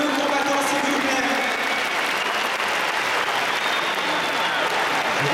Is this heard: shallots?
no